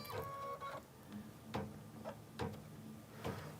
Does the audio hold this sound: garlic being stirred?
no